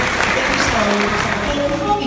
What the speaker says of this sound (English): But give Roger a big round of applause for his round.